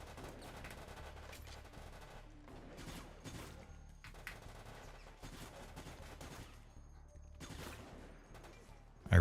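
Rapid SMG gunfire from the video game Resident Evil: Operation Raccoon City, loud bursts of automatic fire with short pauses between them, steady throughout with a sharp thump at the end.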